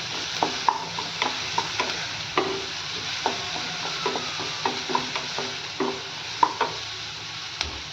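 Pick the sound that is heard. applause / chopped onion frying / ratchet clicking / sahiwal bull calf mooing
chopped onion frying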